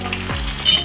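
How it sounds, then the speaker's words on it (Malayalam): Curry leaf sprig dropped into hot oil with shallots for a tempering, giving a brief close sizzle and crackle with a short spitting burst near the end. "ഇതിലേക്ക് നമുക്കൊരു തണ്ട് കറിവേപ്പിലയും കൂടി ഇട്ട് കൊടുക്കാം."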